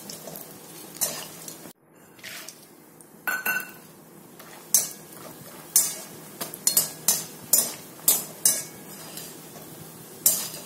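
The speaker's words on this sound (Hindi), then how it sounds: "अभी हम अखरोट को तलेंगे" Walnuts fried in ghee in a pan produce a soft sizzle, with repeated sharp clinks and scrapes of a metal spoon against the pan in an uneven rhythm.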